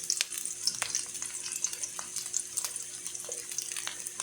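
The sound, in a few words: garlic sautéing in a pan for tinolang tahong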